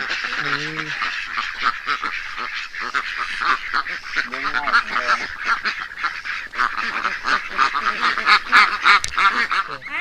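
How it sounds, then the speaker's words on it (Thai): Ducklings on a duck farm make a busy mix of high peeping and quacking calls that overlap continuously at close range, with people talking briefly among them. "อันนี้ลูกเป็ดครับ รอรอลูกค้ามารับ"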